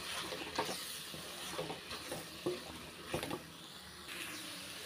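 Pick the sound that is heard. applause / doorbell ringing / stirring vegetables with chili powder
stirring vegetables with chili powder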